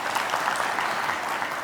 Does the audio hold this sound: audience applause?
yes